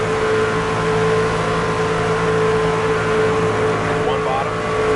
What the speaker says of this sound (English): Irving not quite clear of Bush yet as they head down the backstretch.